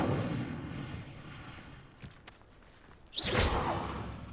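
The Incendio fire spell in the video game Hogwarts Legacy, a loud burst with a rising whoosh of flame near the end, following quieter crackling and a faint rumble.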